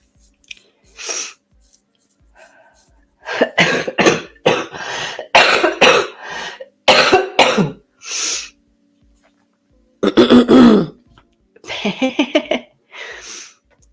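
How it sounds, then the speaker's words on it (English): A person coughs and clears their throat in a series of harsh, close bursts separated by pauses, some coughs wet and rattling, others short and sharp. "Man, it's a nasty cough."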